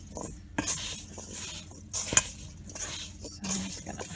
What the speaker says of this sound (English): So I'm just gonna mix that around a little bit